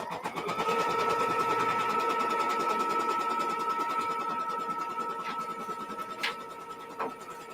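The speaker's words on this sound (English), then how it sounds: "Now I'm going to stitch out step number 2 directly on here as well" A sewing machine stitches out a quilt block step directly onto magenta fabric, giving a steady, fast mechanical whir that runs continuously at close range before easing off near the end, with no talking.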